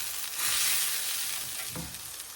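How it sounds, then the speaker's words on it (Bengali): Ground coriander, turmeric and chilli powder fry in hot oil with a steady close sizzle that swells briefly and then settles, with a soft stirring scrape near the end and no voices. "মশলাটা আমি যেমন ভালো মতো কষিয়ে নিয়েছি"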